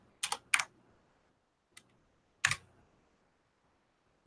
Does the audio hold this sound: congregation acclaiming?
no